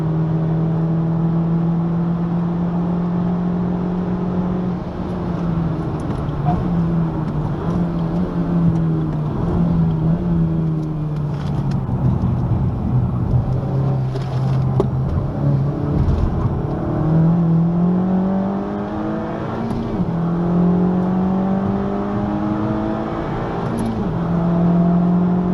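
A car laps the Spa-Francorchamps circuit during a public driving experience, heard from on board as a loud engine drone rising and falling through gear changes, braking and acceleration, continuous and close with no talk.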